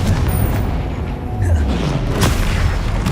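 A Confringo spell explodes in Hogwarts Legacy as a dull, heavy boom rolling through busy game noise, followed by a sharp crack.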